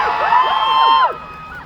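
Crowd at Silverstone cheering during a McLaren Formula 1 interview, a loud burst of whoops and high shouts with rising and falling yells that cuts off after about a second into quieter murmur.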